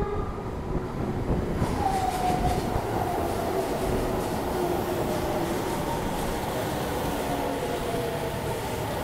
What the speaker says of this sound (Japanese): 列車が来ました